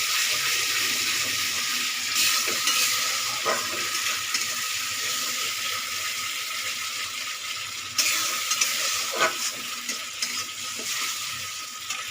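A spice paste with black cumin fries in hot oil with a loud, constant hiss. A few soft stirring clinks and one sharp burst rise over the sizzle, and no one speaks.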